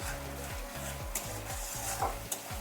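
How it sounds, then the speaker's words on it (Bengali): Spices, chili powder, turmeric and cumin powder, are sautéed in a pan for an aloo paneer roll curry, giving a steady sizzle under rhythmic scraping strokes of a spatula, about five regular stirs, close up and without speech. "হাফ চামচ লঙ্কা গুঁড়ি, হাফ চামচ জিরা গুঁড়ি দিয়ে ভালো করে কষিয়ে নেব"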